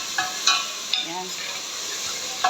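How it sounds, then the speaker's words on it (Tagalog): Chopped tomatoes sautéing in a hot pan hiss and sizzle softly while a utensil stirs, with a few sharp scraping clicks and brief murmurs of speech over the steady frying. "Iyan lang muna natin maluto yung kamatis."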